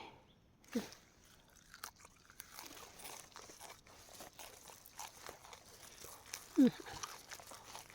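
Someone bites and chews raw purple kohlrabi with crisp crunches, one near the start and a louder one later, among softer chewing sounds, with speech also present.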